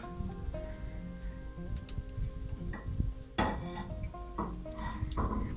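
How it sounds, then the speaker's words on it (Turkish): A clay pot of meat stew bubbling and simmering steadily on the stove in a village kitchen, with a soft crackling texture and occasional clinks of utensils in the background. "Şöyle güvecimiz kaynıyor."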